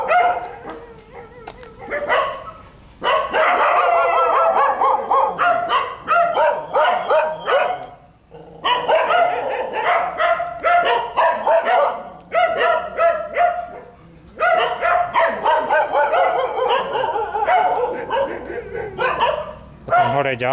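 Many dogs bark outdoors near an unfinished skyscraper in Pattaya, Thailand, with loud overlapping bow-wows and yips in repeated bursts and a few whimpers, while people talk under them.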